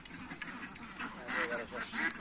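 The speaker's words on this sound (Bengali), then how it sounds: "1100 হাঁস।" A large flock of some 1100 ducks on a temporary duck farm quacks continuously, a dense chorus of overlapping calls close by, with some voices mixed in.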